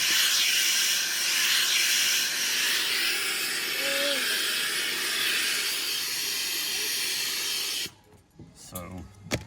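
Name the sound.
steamer hissing while shaping a cowboy hat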